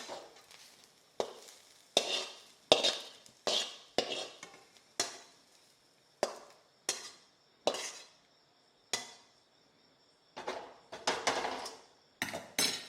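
A utensil scrapes and clinks against a pan as roasted onion is lifted out while making an onion-garlic masala. The short, sharp knocks come in irregular bursts with quiet gaps between them.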